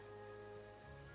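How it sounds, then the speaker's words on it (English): Rain pounds on the roof of a carriage in a soft, continuous wash of drumming noise with a faint steady hum beneath, quiet and uninterrupted, with no voices. "The rain has not stopped since yesterday. It pounds on the roof of your carriage"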